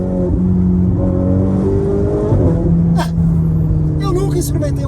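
Ferrari 488 Spider turbo engine in fourth gear with the foot lifted off the accelerator, a steady loud drone easing back under continuous close talking, with a brief sharp burst near the end.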